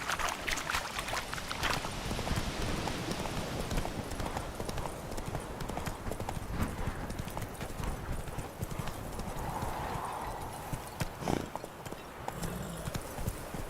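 Roach, the horse in The Witcher 3, gallops with rapid, rhythmic hoof clip-clops carrying through the whole stretch, steady and prominent over soft ambient game sound.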